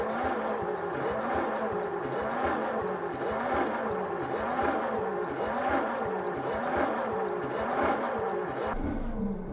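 Starter cranking a flathead Ford engine that has sat for 55 years, a steady rhythmic churning that is loud and continuous for about nine seconds without firing, then cuts off abruptly.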